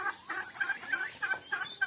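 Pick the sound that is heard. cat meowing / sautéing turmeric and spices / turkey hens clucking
turkey hens clucking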